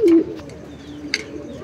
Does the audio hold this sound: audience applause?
no